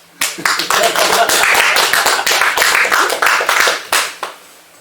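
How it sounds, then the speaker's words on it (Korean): Enthusiastic applause from a Cheondoism congregation at a Korean religious service, dense and close, rising quickly and holding steady for several seconds before tapering off. "여기서 박수."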